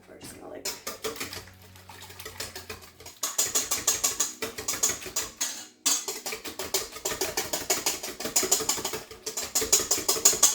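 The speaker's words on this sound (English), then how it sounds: "while we're agitating and whisking up the eggs" Eggs are whisked in a bowl with fast, rhythmic clicking strokes that keep going in bursts, while a person talks over the mixing.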